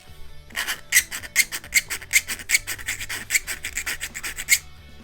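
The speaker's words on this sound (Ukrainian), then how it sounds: "Воно пиляє, дивіться, воно спиляло нормально." A small needle file rasps against metal in quick regular back-and-forth strokes, about a dozen bright scraping passes close up with no talking.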